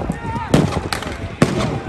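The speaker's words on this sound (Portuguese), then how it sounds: "os bombardeios do exército de Israel e os disparos de foguetes palestinos continuam" Bombing and rocket fire in the Gaza Strip: three sharp, booming blasts ring out over a constant rumbling background, with the third sounding heaviest.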